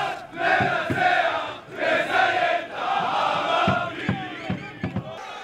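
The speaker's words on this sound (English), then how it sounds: "a crowd of Israeli fans chanting anti-Arab slogans as they march toward" Crowd of Israeli football fans marching toward a stadium in Amsterdam, chanting slogans in loud rhythmic bursts of massed voices, with pauses between phrases and a few sharp claps or thuds near the end.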